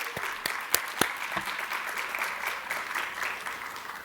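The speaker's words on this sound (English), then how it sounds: "So let's give them a round of applause." An education summit audience applauds its professors, starting with a few loud, sharp individual claps that quickly blend into a dense, even wash of clapping from a crowd.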